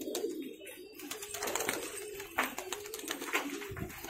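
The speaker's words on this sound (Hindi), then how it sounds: "हे खडी दुमची कबूतर" Khadi dum pigeons at a Nagpur loft coo in soft, repeated low murmurs, steady and close, with faint background noise and no talk over them.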